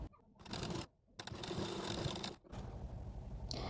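Sewing machine running steadily as it stitches down a folded, pressed edge of blouse fabric, close and fairly loud in long continuous bursts with two short pauses, no talking over it.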